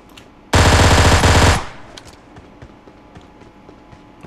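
A loud, rapid burst of P18C pistol fire in a video game lasting about a second, then quiet background with faint small taps.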